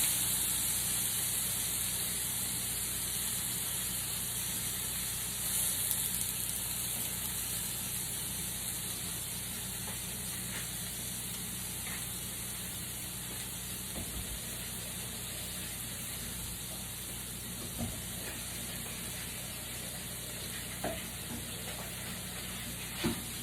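Salmon fillets frying in a skillet give a steady, soft broadband sizzle with a faint hiss running throughout, joined by a few small pops and crackles near the end.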